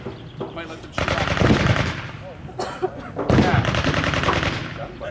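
Historic flintlock muskets fire at Fort George, a national historic site at Niagara-on-the-Lake, in two loud outdoor bursts of crackling gunfire, each followed by a lingering rumble and echo.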